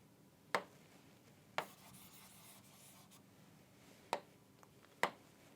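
Pen or chalk writing out an equation, a faint continuous scratching broken by four sharp taps as strokes start, close and quiet with no talking.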